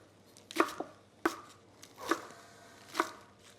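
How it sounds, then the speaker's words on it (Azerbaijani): A knife chops spinach on a board, five or six sharp separate knocks at an uneven, unhurried pace, close and clear against a quiet kitchen. "İndi deməli biz spanağı doğrayırıq"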